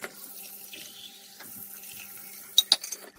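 Tap water runs steadily into the water chamber of a stainless steel Bialetti New Venus moka pot, a close, soft hiss ending with a couple of bright metallic clinks.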